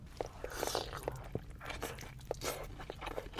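Crunchy bites into a crispy cheese birria taco, several sharp crackling crunches scattered over a few seconds, close to the mic with light chewing between them.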